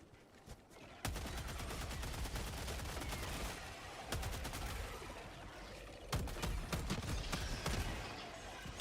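Automatic weapons fire in a shooter video game crackles in long, dense bursts, with short pauses between volleys and sharp individual shots cutting through.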